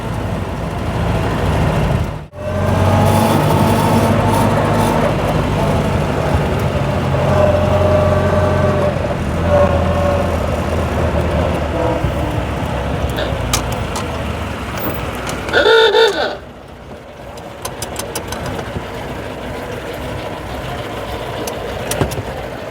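A 1932 Austin Heavy 12/4 Windsor's four-cylinder engine drones steadily while driving, loud and close from inside the car, with road rumble throughout, a short dip and a brief metallic rattle partway through.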